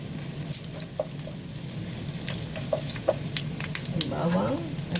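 Garlic frying in a pan with pork belly for adobo, a continuous close sizzle with light stirring clicks and bubbling.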